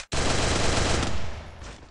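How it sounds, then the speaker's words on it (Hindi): A single loud, close burst of automatic M40 gunfire in the mobile shooter Free Fire, a rapid rattle lasting just over a second before tapering off, with no talk. "एम फोर्टी चलाओ"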